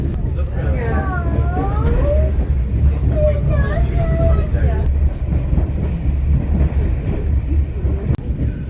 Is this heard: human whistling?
no